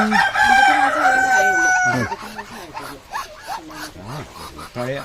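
A rooster crows loudly up close, one long drawn-out call, followed by clucking, other fowl noises, and a voice speaking nearby.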